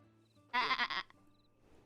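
A person imitating a goat with one loud, wavering bleat about half a second long, alone and close, during a western roleplay game broadcast.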